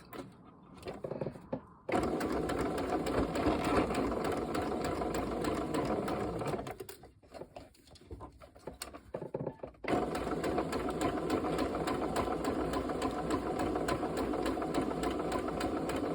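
A sewing machine stitches a fabric gnome in a long, steady run, briefly drops to softer, uneven running in the middle, then picks back up to a loud, continuous hum close by.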